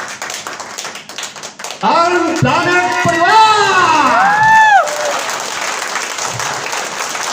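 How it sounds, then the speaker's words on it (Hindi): Audience applause rises loudly and stays steady under a spoken announcement and a burst of music at a motivational event, the clapping filling the whole stretch as a dense, continuous crackle. "जोरदार तालियों के साथ स्वागत करेंगे"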